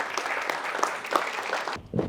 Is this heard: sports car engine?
no